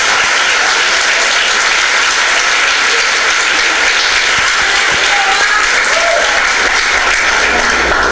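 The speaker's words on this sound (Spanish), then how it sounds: "Y ahora, aplauda al Señor, aplauda." Church congregation applauding during a sermon, a dense, loud, sustained wash of many hands clapping together, filling the room evenly from start to finish.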